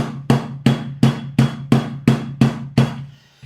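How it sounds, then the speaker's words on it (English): A rolling pin whacks a disc of matcha cookie dough eight times in a steady rhythm, each blow a sharp, loud thud followed by a short ringing decay, close and without talk. "I'm just going to give this a few whacks to get started"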